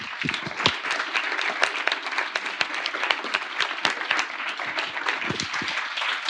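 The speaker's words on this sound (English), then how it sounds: "So let's give them another very warm round of applause," An audience gives a warm round of applause to the panelists at the close of a democracy discussion, dense steady clapping filling the room for several seconds without talk.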